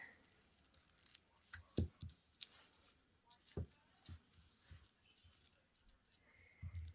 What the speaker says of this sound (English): cut that out with scissors